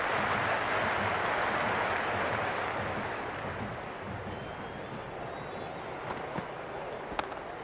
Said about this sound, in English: You can just feel the sheer excitement around the ground right now.